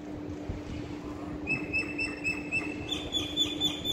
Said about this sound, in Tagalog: Ayan, naliligo sa pool ang mga ibon.